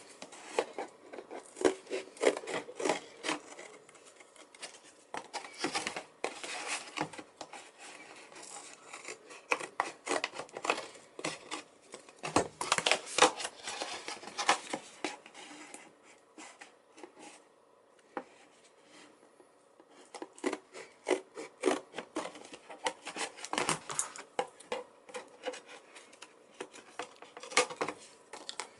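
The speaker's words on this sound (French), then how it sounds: "Puis après ça, avec les ciseaux, on enlève les 4 parties." Scissors snip repeatedly through the parts of a homemade bird feeder, close and crisp, in irregular bursts of quick cuts with brief pauses and handling rustles between them.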